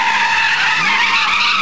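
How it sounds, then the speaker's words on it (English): A 350-horsepower car slides sideways with a loud, sustained high tire squeal, close and continuous throughout the short burst. "Getting sideways is a technical racing maneuver, actually."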